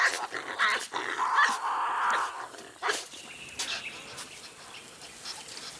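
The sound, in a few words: Tasmanian devils fighting and growling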